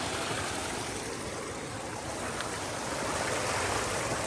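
A river flows steadily beside the bank, with an even, close rush of water and no other sound.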